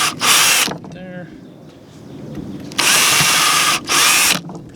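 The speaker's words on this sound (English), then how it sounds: "Drill a little hole" A power drill bores a pilot hole in a cedar board for a raised garden bed, with three loud bursts of whirring drilling separated by quieter pauses with faint handling noise.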